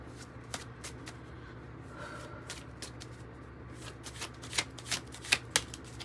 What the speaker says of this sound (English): with that darkening card